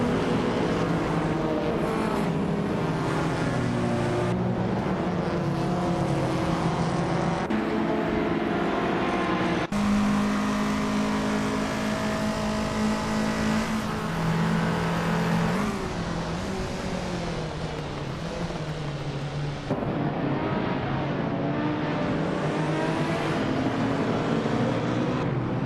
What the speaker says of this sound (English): the race is underway at Sochi Autodrome